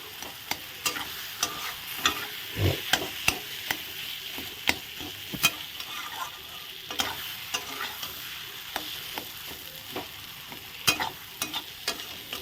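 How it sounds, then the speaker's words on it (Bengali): Potatoes and spices sizzle steadily in a pan while a spoon scrapes and stirs, with irregular clatters over the constant frying hiss. "আলু দিয়ে ভালো করে এখন যত কিছু মশলা দিয়েছি সব কিছু ভালো করে একদম ভালো করে ভাজা ভাজা করে নেব।"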